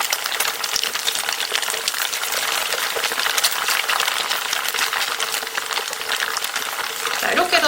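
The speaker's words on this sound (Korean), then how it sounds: "나머지 반대쪽도 거의 갈색이 될 때까지 얘를 튀기듯이 지져주세요" Tofu pieces fry in hot oil in a pan for hong shao tofu, giving a steady, dense sizzle and crackle that runs unbroken throughout at close range.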